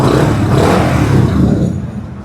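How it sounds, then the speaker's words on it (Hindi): A 2021 Yamaha motorcycle engine runs close by with a loud, rough, sputtering idle that fades slightly toward the end of the short burst. "ये इसलिए मैंने स्टार्ट की है ताकि आपको घर बैठे इसके साउंड का अंदाज़ा हो"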